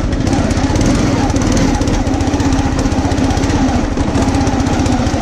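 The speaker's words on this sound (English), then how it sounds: "This thing doesn't like going from idle to full throttle," Engine on a homemade motorized lawn chair roars loud and close, a continuous throbbing chug that holds steady at high throttle with no break, a voice faintly underneath.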